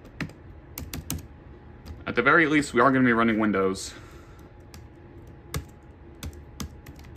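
Sharp clicks from a netbook tablet's keyboard scattered across the whole stretch, close and crisp, with a short burst of someone talking in the middle.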